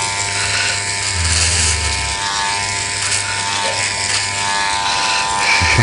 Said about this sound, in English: that's the clippers you can feel.